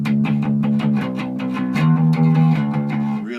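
Clean, almost unprocessed electric bass is played through an EBS Sheehan Drive pedal with the distortion turned down: a steady run of plucked notes, close and prominent, with no voices over it.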